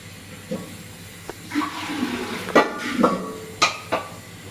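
Tap water runs in a kitchen sink while vegetables for sambar and cabbage palya are washed, with intermittent splashes, soft hiss and occasional clinks of dishes, moderately near.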